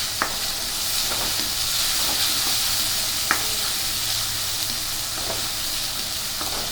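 Finely chopped garlic and onion fry for poha with a constant bright sizzle. A few sharp clinks and scrapes from stirring pop up now and then over the steady hiss.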